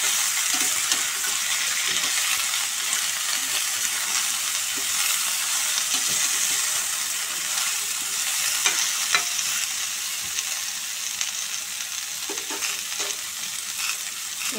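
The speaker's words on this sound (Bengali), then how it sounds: "হলুদ মিশিয়ে ঢাকা দিয়ে সিম করে ভাজবো।" Vegetables for a vegetarian spinach curry sizzle and fry in a pan on a home stove. A constant soft hiss of frying holds throughout with occasional faint stirring clicks and no talking.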